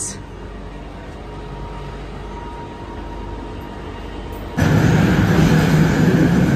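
Steady low rumble of a moving train heard from inside, with the noise suddenly getting louder and harsher near the end.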